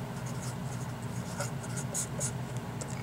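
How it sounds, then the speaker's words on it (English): Handwriting during a college algebra lecture, with faint scratchy strokes of a pen or marker against a steady low room hum, no talking. "I'm going to write that here."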